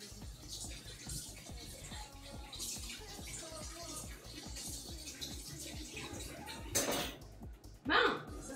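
Water runs steadily from a kitchen tap during rinsing, a soft continuous flow with a couple of louder splashes near the end, while people talk quietly in French.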